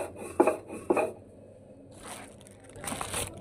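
Cumin seeds are ground on a stone shil-pata slab with a rough, rasping scrape, two quick strokes up front and then softer, longer rubbing passes.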